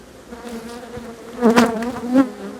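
Bees buzz close by at an open hive in a busy hum, with a few louder passes swelling over the steady drone of many insects.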